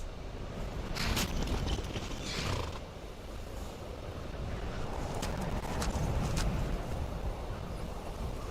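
Horses' hooves clip-clop steadily in the Skyrim video game, a continuous clatter of steps beneath a dense, loud game soundscape with occasional sharper clicks.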